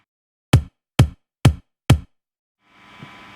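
A down-tuned synthesized body kick drum sample hits four times at an even, steady pace, each a short punchy thump with fast decay, followed by a faint sustained hiss at the end.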